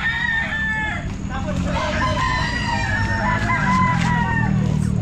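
Sweater gamefowl rooster, ten months old, crowing repeatedly at a busy pet market, the calls loud and near over steady crowd noise and other fowl.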